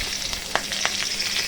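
Batter-coated Malabar spinach leaves frying in hot mustard oil, a steady close-up sizzle with a few brief crackling bursts and pops.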